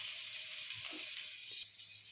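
Four cloves of finely chopped garlic sizzle steadily in hot coconut oil while a beef samosa filling is started, a soft continuous hiss with faint stirring clinks, low in level and without voices.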